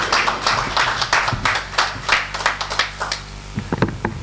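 An audience applauding a school director at an association event in St-Marc, a burst of many hands clapping, dense and lively, thinning toward the end.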